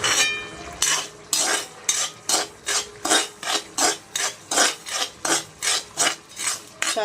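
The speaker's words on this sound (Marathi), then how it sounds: "हलवत हलवत रवा भाजायचा" Semolina being stirred and dry-roasted in a hot kadhai, a steady run of about fourteen rhythmic scraping, rasping strokes across the pan, close and fairly loud with no talking.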